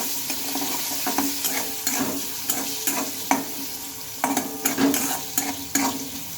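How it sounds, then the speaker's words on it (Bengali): Tomato lightly frying in a pan for chilli cauliflower, a close hiss of sizzling broken by repeated scraping stirs of the spatula, fairly loud, without speech. "টমেটোটা দিয়ে নিলাম আর টমেটোটা কিন্তু একদম গড়িয়ে ফেললে হবে না হালকা ভেজে নিতে হবে"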